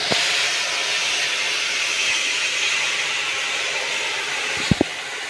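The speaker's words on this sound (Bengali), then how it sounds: "টকটা ভালোভাবে ফুটে গেছে" Tamarind sour curry for crab bubbling in mustard oil in a wok, giving a steady close hiss and steamy boil throughout, with two brief sharp knocks near the end.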